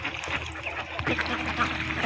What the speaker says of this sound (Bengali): আর এই মুহূর্তে পনেরো তিনশো হাঁস আছে